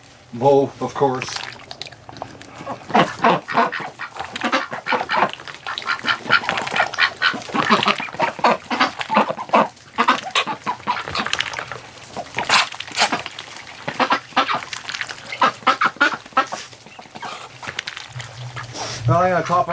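Wintering ducks and geese quack and honk in a busy flock outdoors on a cold, windy snowy day, calls overlapping steadily and close, with a person talking over them throughout.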